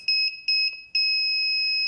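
A homemade ESP32-based alarm clock sounds its alarm: three loud, piercing electronic beeps in quick succession, the last one holding as a steady sustained tone. The sound is close and clean, with no talking.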